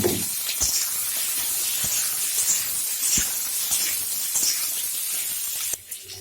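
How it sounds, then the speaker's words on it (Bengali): Boiled potatoes frying in a pan with tomato for a brown aloo dum, giving a steady loud hiss and spray of oil with occasional soft clicks and stirring taps, no talking. "আলুগুলো একটু ভালো করে ভেজে নেব"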